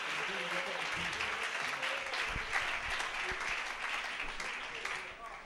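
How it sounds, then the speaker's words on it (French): Sustained applause from a large church congregation, steady and dense throughout, with scattered voices and cheers mixed in. "Donnons à nos ministres une merveilleuse"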